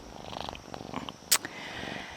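A cat purring close by, a low, steady rumble with a brief sharp knock partway through.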